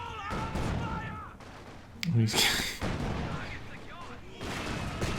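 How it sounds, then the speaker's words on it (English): Gunfire and explosive bursts from the Company of Heroes 2 strategy game ring out under continuous commentary, with a sharp loud burst near the middle among steady battle noise. "Now Rakitten's gonna try to shoot through the shot blocker."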